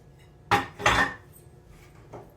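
A spoon mixes jaggery into a cauliflower, carrot and turnip pickle in a bowl, giving two close, sharp scraping clinks followed by a fainter third.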